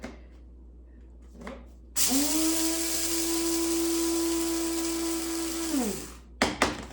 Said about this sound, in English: just fresh, cold, ground up flax seeds first in the coffee grinder